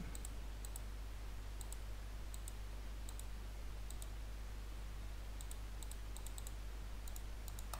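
Mouse clicks while working in CAD software on a concrete beam section drawing, sparse sharp clicks scattered across the clip over a steady low hum, faint and close, with no talking.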